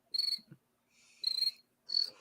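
Three short bursts of cricket chirping, each a rapid trilling pulse, played clearly and alone as a comic silence effect after a joke.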